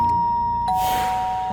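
A doorbell chimes twice, a sustained electronic tone that steps slightly lower on the second note, fairly faint against a quiet room.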